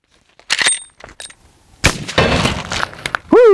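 A Marlin 1895 SBL lever-action rifle in .45-70 Government fires at an outdoor range, a sharp loud blast with a ringing tail, preceded by smaller clicks and followed by a rising whistle-like sound at the end.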